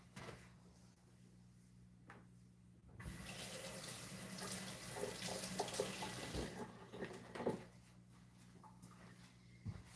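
Tap water runs steadily as a giant spatula is rinsed under it during soap making, a loud broad rush lasting several seconds that stops abruptly, preceded and followed by small clatters and knocks at a sink.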